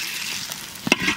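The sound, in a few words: bay leaf sizzling in hot mustard oil in wok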